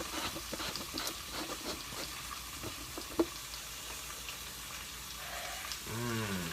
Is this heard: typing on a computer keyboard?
no